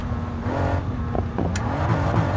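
A five-figure supercar's engine in a video game revs briefly up close, a buzzing, pitch-shifting growl with a few quick throttle blips and a short high squeal.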